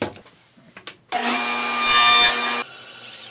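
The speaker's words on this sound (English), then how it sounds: "I'll be cutting this into 2 pieces" Power saw cutting a wood piece in two in a shop, a loud close whine that rises sharply and holds for about a second and a half, after some light handling knocks.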